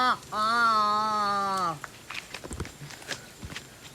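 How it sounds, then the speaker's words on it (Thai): Loud footsteps of a strange creature that walks like a spider: a long, drawn-out tonal whine comes first, then a run of irregular, close thuds and scuffs. "เสียงย้ำเท้ามันดังมาก"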